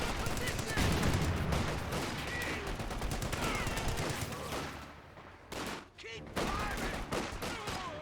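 Heavy .50 cal machine gun fire in a Company of Heroes 2 battle, dense bursts layered with other gunfire and explosions, loud and continuous, with a brief lull near the end before the firing resumes.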